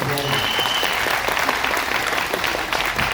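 An audience at a family reunion meeting in Kochi, Kerala claps in dense, sustained applause, steady and fairly close for the whole stretch.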